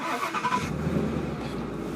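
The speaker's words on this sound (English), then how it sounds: "You're buying that sound of the V8. The little Mustang logo when she fires up." A 2017 right-hand-drive Ford Mustang GT with a V8 cranks and fires up, a short starter whine followed by a deep low engine rumble settling in close by.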